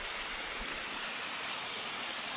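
Water rushes steadily through a patched pipe, a constant broadband hiss and gush that stays level without breaks or voices.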